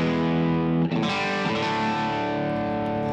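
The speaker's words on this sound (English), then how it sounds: "here is a pretty, you know, slightly overdriven, you know, guitar sound." A slightly overdriven electric guitar played through a Kemper amp profiler rings out a sustained chord, and a fresh strum near the first second adds a bright, gritty attack before the notes decay.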